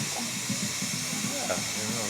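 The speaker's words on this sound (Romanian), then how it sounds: "Și cum era locomotiva cu abur la Pașcani? Ca asta de aici?" Steam locomotive, a small shunting engine at a Maramureș railway, gives a steady broad hiss throughout, with a low rumble underneath and people talking over it.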